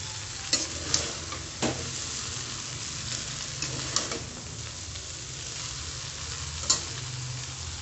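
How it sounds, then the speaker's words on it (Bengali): Chicken chowmein is tossed and stirred in a hot pan, a constant sizzle under a few sharp utensil knocks and scraping sweeps, close up with no voices. "উল্টে পাল্টে নাড়িয়ে নাড়িয়ে মিশিয়ে নিতে হবে"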